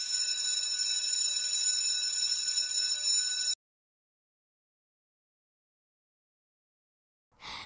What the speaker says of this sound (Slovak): o chvíľočku bude zvoniť